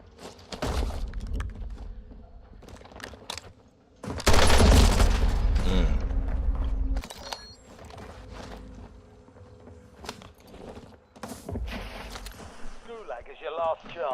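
Gunfire in the video game Call of Duty Warzone, with bursts of rapid shots breaking out repeatedly, including one long, loud sustained barrage in the middle, mixed with footsteps and impacts.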